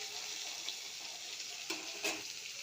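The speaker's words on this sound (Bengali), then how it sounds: "এখন একটু একটু ভাজা হোক।" Kitchen-garden vegetables frying in a pan and stirred with a spatula, a quiet steady sizzle with a couple of brief scraping strokes, close and without talk.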